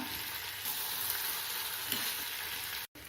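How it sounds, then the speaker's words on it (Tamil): Tapioca masala stir fry sautéing in a pan, giving a steady, even sizzle and hiss of frying, close and fairly constant with faint stirring movement, cut by a brief dropout near the end, no voices. "கொஞ்சம் நேரம் வதங்கட்டும்"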